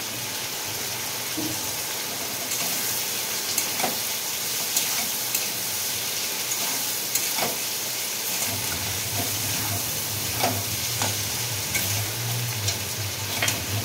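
Tomato and egg posto fry in a pan with a steady, loud sizzle and hiss, with scattered utensil scrapes and clicks, and a low rumble joining partway through.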